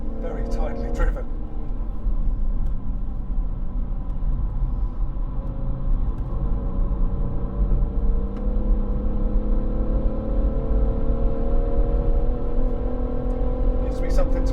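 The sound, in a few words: BMW M140i driving on the Goodwood circuit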